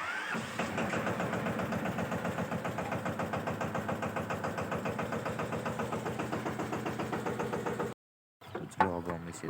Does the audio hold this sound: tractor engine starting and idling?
yes